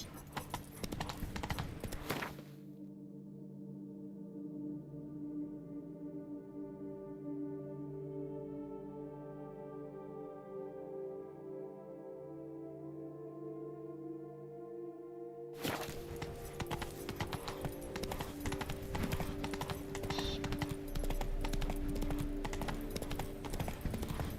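Roach, the horse in Witcher 3, clip-clops along in steady hoofbeats. A loud stretch opens and another runs to the end, with a quieter, music-filled passage in between.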